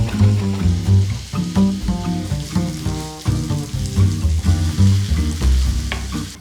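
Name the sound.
onion and garlic frying in oil in a pan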